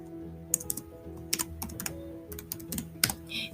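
Keystrokes on a computer keyboard while entering a game wheel method call in code, coming in short irregular bursts of clicks with pauses between, close and moderately loud over a steady low hum.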